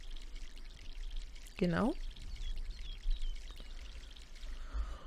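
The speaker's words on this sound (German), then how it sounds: "dann jetzt hier rüber und gießen wir den ebenfalls" Water pours briefly onto a plant in the MySims video game, a short splashing burst in the middle over quiet background ambience, with someone speaking softly around it.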